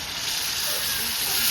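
Batter sizzles steadily in hot oil in a frying pan, a continuous close, bright hiss that holds level for the whole moment.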